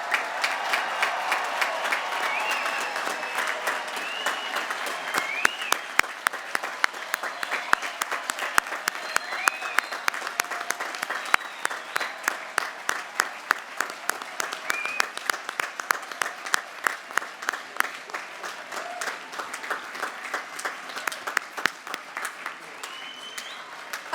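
Roaring applause for the graduating class at a college commencement ceremony: a large crowd clapping steadily for over twenty seconds, dense and sustained with sharp individual claps standing out.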